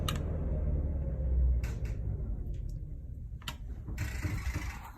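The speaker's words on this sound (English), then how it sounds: "So I'm now going to cut the diesel generator" A low, steady rumble from a push-start diesel generator on a MAN TGL 12.210 horsebox churns, then winds down and fades as it is switched off, while scattered clicks and mechanical rattles punctuate the final moments.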